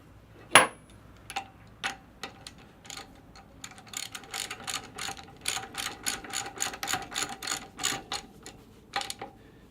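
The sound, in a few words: socket ratchet unthreading a valve from its housing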